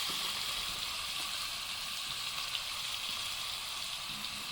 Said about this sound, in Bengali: আর দিয়ে দেবো কেটে রাখা টমেটো